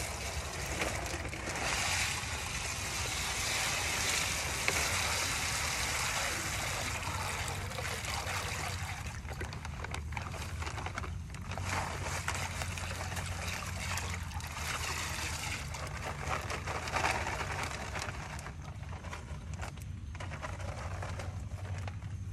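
Water splashes and trickles steadily into a fishpond for a long stretch, a close, continuous gushing pour with a low rumbling undertone and no voices.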